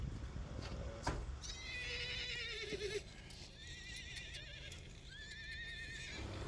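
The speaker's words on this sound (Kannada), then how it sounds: "ಇಲ್ಲಿ ಇದು ಕುದುರೆ ನಮ್ಮ ಓನರ್ದೇ" A horse on a desert farm in an Arab country neighs several times in drawn-out, wavering whinnies, with hoof clops and rustling background noise, fairly close but not loud.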